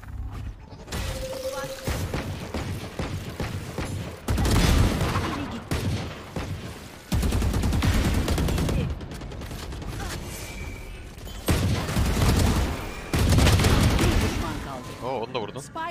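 Bursts of gunfire and impacts from a shooter video game crack out repeatedly in loud clusters, with players talking over the action between and during the shots.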